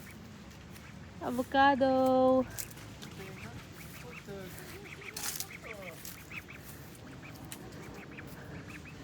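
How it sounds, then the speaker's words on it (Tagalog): A farm duck lets out one loud, close quack-like burst, followed by fainter calls, while people chatter nearby throughout. "Oh, duck! Duck!"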